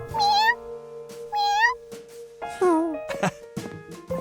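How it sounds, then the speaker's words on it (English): A kitten gives several clear, high rising meows in quick succession, close and prominent, with some background sounds between them. "His job was to watch Professor Wiseman's new kitten, Lucky"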